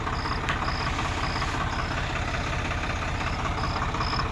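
Indo Farm 3048 tractor engine idling, a steady, loud low-pitched diesel rumble with even pulsing throughout and a faint recurring high whine, close by.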